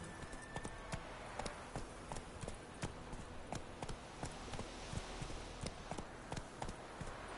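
In a video game, the horse Roach's hooves clip-clop in a steady walking rhythm, each footfall a distinct quiet knock against a faint background hum.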